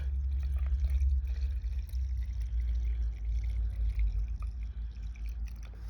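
Drain unblocker liquid pours steadily into a waste pipe with a low, gurgling rush, continuous and close, without any talking.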